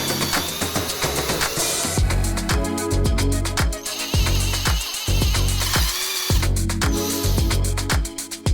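A power drill drilling holes whirs in repeated short bursts, several presses in a row, loud and close, with brief pauses between each run.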